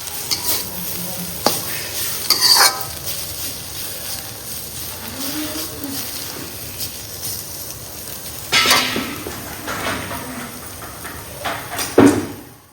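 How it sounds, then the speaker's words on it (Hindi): Radish greens stir-fried in a pan with green chilli, salt and turmeric, a low sizzle under occasional clinks and scrapes of a spoon stirring against the pan. "तो बस इसको ऐसे ही छौंक देते हैं बिना मसालों के।"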